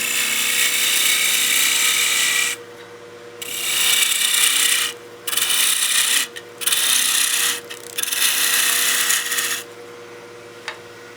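A wood lathe turns a snowman oil candle in wood, scraping and rubbing in long bursts with brief pauses as cuts stop and restart, close and loud.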